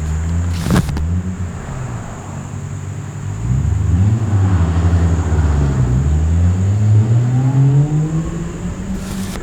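A manual-swapped Toyota JZX90 pulls away with a loud, close engine note that climbs steadily through the revs, rising in pitch as it accelerates without any talk over it.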